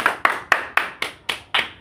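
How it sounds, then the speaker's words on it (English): Seven sharp, evenly spaced hand claps in quick succession in a classroom, close and crisp, with no voices. "Very good, clap for him."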